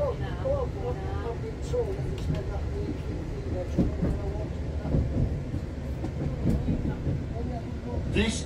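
Interior rumble of a TransPennine Express Nova 3 locomotive-hauled train running on rails, a steady low roll with faint rhythmic clicks, heard with people talking over it.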